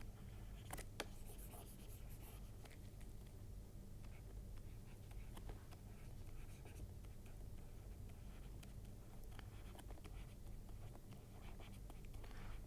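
Steady scratching of a marker or chalk writing across a board during an optics lesson, faint and continuous with small taps and strokes, no talking.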